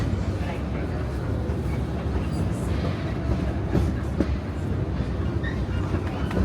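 Disneyland Railroad train at Disneyland Resort, California, running on its rails with a loud continuous rumble and faint rhythmic clacks, close and steady throughout.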